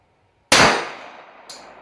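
A single sharp shot from a Remington-Rand 1911A1 pistol cracks loudly and rings out, followed by a fainter second report about a second later.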